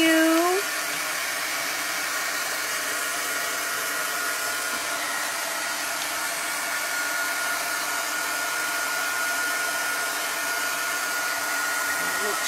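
Hair dryer blowing steadily to dry chalk paint on a craft project, loud constant whir from start to finish after a brief click on, no talk.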